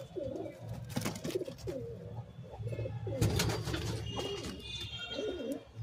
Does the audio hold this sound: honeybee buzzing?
no